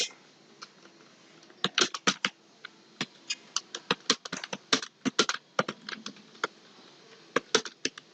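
Irregular clicking of computer keys being typed, sparse at first and then in quick bursts of taps, close and fairly quiet with no speech.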